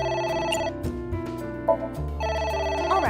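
Inside the video game AI The Somnium Files, a phone keeps ringing with repeated electronic trills that stop briefly and then return, set against a low musical backdrop with no speech.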